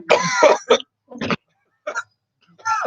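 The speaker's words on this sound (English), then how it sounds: "They both attempt to drink the entire glass and immediately start coughing and gagging." Close, harsh coughing and gagging and throat-clearing in short spluttering bursts after gulping down a drink, separated by moments of silence.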